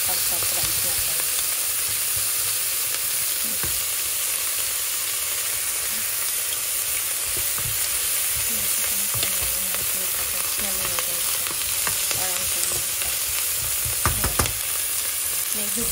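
Pork frying in hot oil for pineapple adobo: a dense, continuous sizzle with intermittent stirring scrapes and a couple of louder clatters near the end, close and fairly loud.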